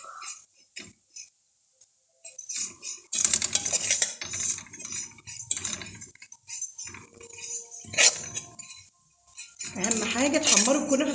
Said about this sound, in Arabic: احرك باستمرار عشان ما تلسعش معايا ولا تسمر وتغير لونها